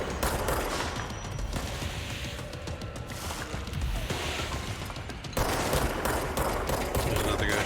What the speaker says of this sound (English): There's another guy shooting at me, isn't there?